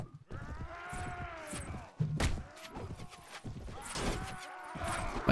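Horse hooves clip-clopping in the video game Mount and Blade Warband Viking Conquest, uneven thuds from a lame horse mixed with a brief whinny and game noise, moderately close.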